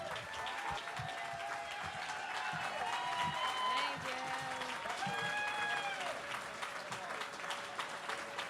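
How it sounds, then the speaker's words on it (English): Crowd applause and cheering as an executive director is welcomed onstage at a benefit gala, sustained clapping with whoops and excited voices calling out over it. "Give her a huge round of applause."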